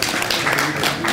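Brief burst of audience applause at a literary gathering for a novel launch, a short spell of dense, fairly quiet clapping from a seated crowd.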